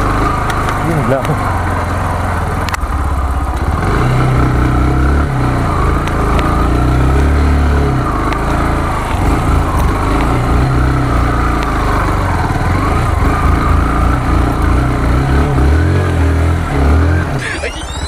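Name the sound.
Kawasaki Rouser NS160 motorcycle riding off-road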